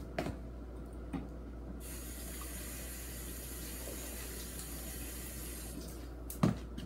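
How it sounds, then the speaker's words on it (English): Water runs steadily from a kitchen tap during hand washing, a continuous hiss with a few brief knocks and clatters near the start and end. "I am going to wash my hands."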